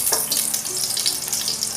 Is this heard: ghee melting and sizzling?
yes